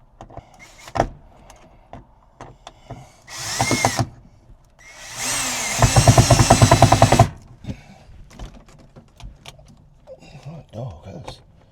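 A cordless power drill driving screws into an RV water pump, two bursts of whining motor, a short one and then a longer one that strains as the screw seats, up close, with voices talking around it.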